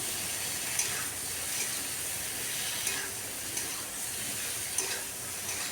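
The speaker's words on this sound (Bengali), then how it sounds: "এবার কিছুক্ষণ খুব ভালো করে কষিয়ে নিচ্ছি।" Rui fish curry with ridge gourd and fried potatoes sautéing in a pan, a steady loud sizzle and hiss with occasional scraping stirs, continuous and close with no talking.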